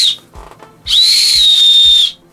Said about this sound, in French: Normalement, c'est un sifflet.